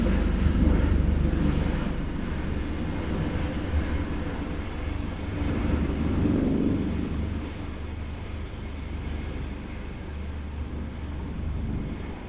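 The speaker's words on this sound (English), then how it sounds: "it's like a helicopter literally just fly like above you" A low-flying helicopter passes close overhead, giving a loud, sustained rumble that swells around the middle and then eases slightly, with no talk over it.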